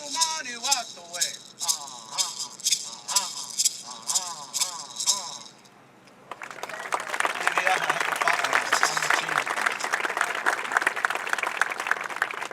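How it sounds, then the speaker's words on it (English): After a rhythmic chanted song, a crowd at Sacramento Republic's groundbreak ceremony breaks into sustained applause for Assembly member James Ramos. The clapping is thick and continuous and carries on at a steady level for several seconds. "Round of applause for James Ramos, ladies and gentlemen, Assembly member of the 45th District"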